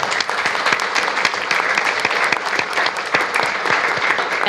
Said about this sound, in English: So we'd like to give her a big thank you and a big round of applause